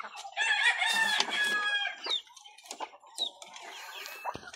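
Breeder hens cluck busily in a pen while a rooster crows nearby, with overlapping calls and short squawks close to the listener.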